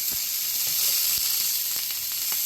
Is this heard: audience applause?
no